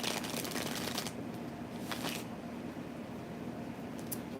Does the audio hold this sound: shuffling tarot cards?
yes